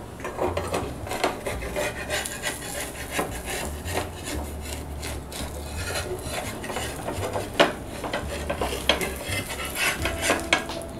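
A utensil scrapes and rubs against a pan on a gas stove as soft homemade garlic naan is lifted off, with repeated close scraping strokes and light metallic clinks.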